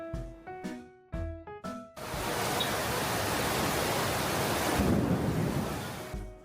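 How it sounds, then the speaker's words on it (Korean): Heavy tropical rain squall during the May rainy season in Ho Chi Minh City, at a street-side food stall; a few clear musical notes give way to a loud, dense, steady roar of rain that continues to the end. "어느새 하늘이 구멍이 난 것처럼 비가 쏟아지더라고요."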